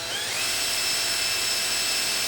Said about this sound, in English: clean up the threads and the biting face on the bolt